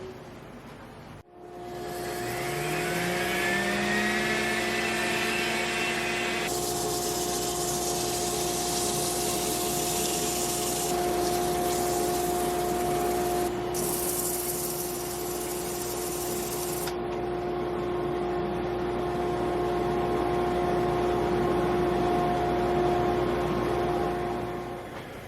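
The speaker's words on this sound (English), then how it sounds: "I guess I'll do some sanding on this." A lathe hums steadily with a rising motor whine while turning a black oak platter, and a sanding hiss comes and goes over the top for most of the stretch.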